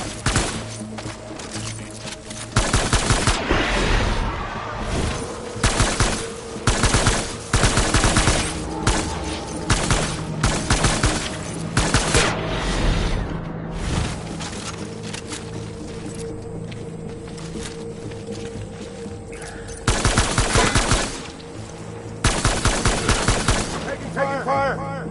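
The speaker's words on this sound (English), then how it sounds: "Taking fire." Gunfire in the Death Stranding video game: loud, close bursts of rapid automatic shots in repeated volleys, broken by short lulls, with faint voices in the background.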